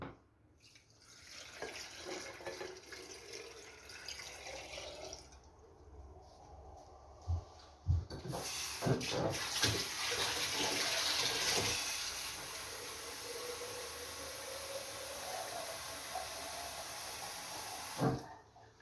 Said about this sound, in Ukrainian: Заливаємо холодною водою, щоб покрились помідори.